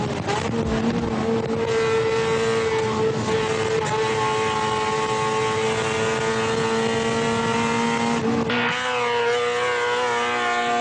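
A Honda Civic engine with VTEC drones loudly and steadily with strong harmonic tones while driving, then the pitch and loudness drop sharply near the end.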